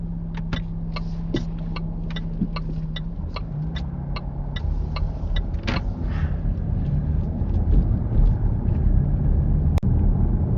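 Car pulling away during a driving lesson, heard from inside: a steady low engine hum that builds gradually in rumble as it drives off, with a ticking indicator early on and a single sharp click near the end.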